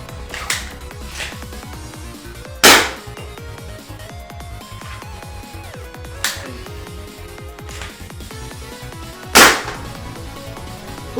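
Sharp pops from a compact 3D printed Nerf sniper blaster firing darts at high velocity, three loud shots spaced a few seconds apart over a steady mechanical hum.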